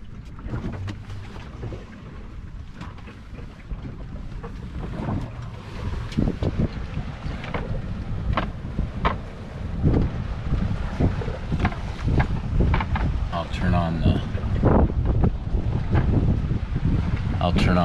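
Strong, steady wind of about 25 knots buffets a sailboat in rough seas at night, with gusty rushing and rumbling microphone noise, thumps and spray, while someone talks over it.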